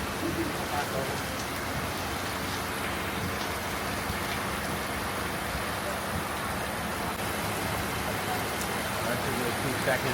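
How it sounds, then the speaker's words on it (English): Heavy rain falling steadily outdoors in Tonga, a dense, unbroken hiss that fills the whole stretch, loud and close with no clear voices above it. "It's raining so bad"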